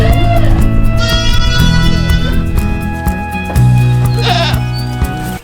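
Goats bleat loudly and repeatedly at close range, long wavering cries overlapping one another in a noisy outdoor pen.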